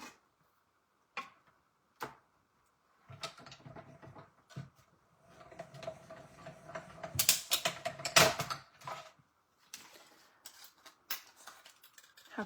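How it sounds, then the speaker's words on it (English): Small mini die cutting machine cranked by hand, a few isolated clicks and then a run of ratcheting, grinding mechanical clatter that builds and eases off, close and fairly quiet with no talking. "let me put that here in my die cutting machine. I have my little mini here. I'm going to quickly crank that out"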